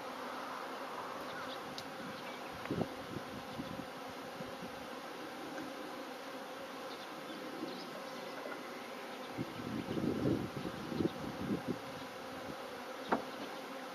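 Honeybees buzz as they are moved into a Tanzanian top bar hive: a steady, close swarm drone with louder swells as single bees pass near, and no talk.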